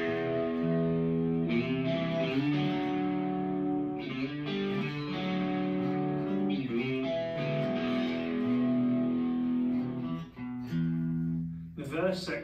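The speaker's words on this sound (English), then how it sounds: "Section continues on with a very similar chord progression, but now with a bit more distortion." A Stratocaster electric guitar plays a distorted riff of sustained chords with rhythmic changes, loud and up close, dropping briefly near the end before resuming.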